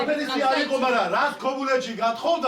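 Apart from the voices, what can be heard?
No everyday noise stands out behind the speech.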